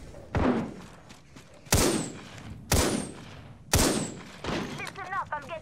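Gunfire in Apex Legends, four sharp, loud shots about a second apart, each with a short echoing tail, followed by a burst of chirpy in-game effect sounds.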